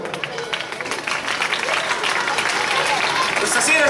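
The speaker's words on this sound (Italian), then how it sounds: "applauso." Audience applause at a comic stage act in Naples, steady dense clapping building slightly in loudness across the clip with crowd murmur mixed in, no clear speech over it.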